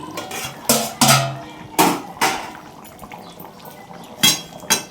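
Metal clatters as the lid comes off a pot of aloo dum for a Lokenath Baba offering meal, several sharp clinks and knocks spaced apart over a faint background of liquid and bubbling.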